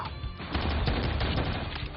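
Sustained bursts of rapid gunfire from vampire hunters in the film Day Shift, dense and loud, one continuous volley of overlapping shots with no voices.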